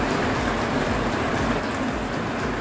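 Steady rain falls in Baguio, a dense, continuous hiss of drops on surfaces that stays loud and unbroken from start to finish with no talking.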